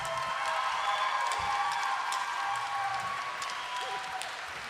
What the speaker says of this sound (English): Give a round of applause for Miss Nichelle Nichols